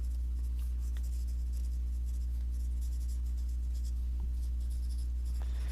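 A marker writing on glue paper, faint squeaky strokes close up over a loud steady low hum, with no voices.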